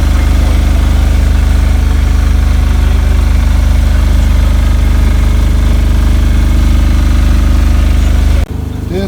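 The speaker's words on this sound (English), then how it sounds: "generator running when I'm standing in the cockpit. Very quiet." A newly installed generator on an Island Packet 320 sailboat drones steadily from below the cockpit, a constant low engine hum with a fine vibration that holds unchanged for several seconds before cutting off abruptly near the end.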